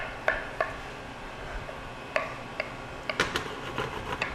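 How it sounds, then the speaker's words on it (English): Knife chopping papaya into dice on a board in a home kitchen: a scattered run of light, sharp taps, about a dozen over a few seconds, at an uneven pace and close by, with no talking. "We're going to continue dicing up our papaya"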